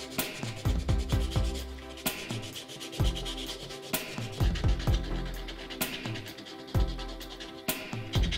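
Steady sanding of a carved wooden mask, a gritty back-and-forth rasp with rhythmic strokes and occasional sharper scrapes, close and continuous throughout.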